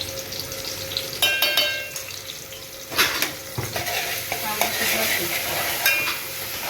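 Ginger garlic paste sizzles in a hot pan while a spoon stirs and scrapes it in repeated close strokes, with occasional clinks of metal and a steady frying hiss throughout.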